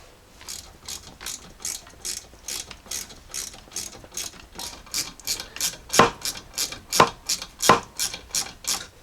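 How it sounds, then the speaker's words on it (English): A ratchet tightens rear brake bolts on a Jeep Grand Cherokee WK2 through a 7mm Allen bit, giving a steady run of over twenty close mechanical clicks that grow louder toward the end, with no talking. "we can start tightening that up with that 7mm Allen"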